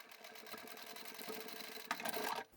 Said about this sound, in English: Just sew as close as you can get to the metal bar underneath.